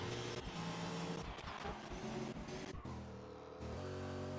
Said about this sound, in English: Those mighty supercars with 8 cylinders are just born to fight.